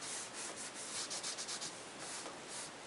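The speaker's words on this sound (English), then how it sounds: "just lightly wipe around. Again, revealing the lettering or the embossing underneath" Paper towel lightly rubbing over embossed lettering on a treasure chest, a soft close brushing and scuffing that swells and fades in short repeated strokes, with no talk.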